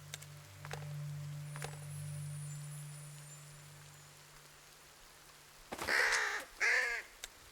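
A crow in a mystery detective adventure video game near the last buildings of a settlement by a forest gives two loud, close caws near the end, after a quiet stretch of soft rain-like ambience and faint taps.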